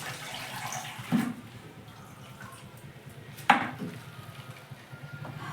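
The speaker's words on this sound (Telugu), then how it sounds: "ఇప్పుడు వాకిలు కడిగేస్తున్నాడు" Water is splashed across the front yard while it is washed, giving a low wet wash with two sharper splashes about two seconds apart and softer trickling between them, all fairly close.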